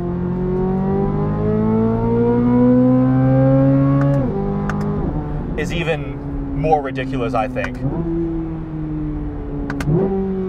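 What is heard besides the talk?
2023 Corvette Z06 LT6 flat plane crank engine revving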